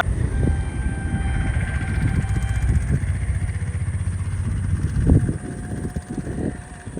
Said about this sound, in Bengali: কলকাতা সাইরাং এক্সপ্রেস পাস করছে বহরমপুর